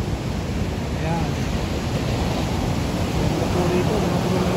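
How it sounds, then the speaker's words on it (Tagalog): Strong ocean waves at a surfing beach make a steady, heavy roar of surf blended with wind buffeting the microphone, while a voice speaks faintly underneath. "Grabe, lakas ng alon."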